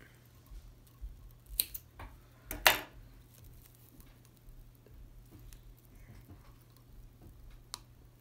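Scissors snip through fibres at close range, with a couple of sharp, quick cuts in the first few seconds and a faint click near the end against quiet room tone.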